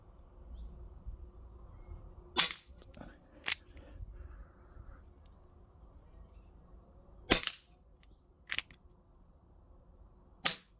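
An Umarex Colt SAA Smoke Wagon .177 CO2 pellet pistol firing, five sharp cracks spaced irregularly, a pair close together then three more, over quiet outdoor background with faint low talk.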